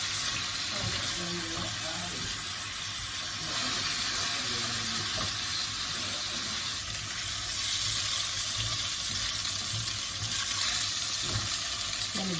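Shrimp fry in a pan with a strong, steady sizzle and a bright hiss that swells louder toward the end, heard up close and unbroken, with no talking.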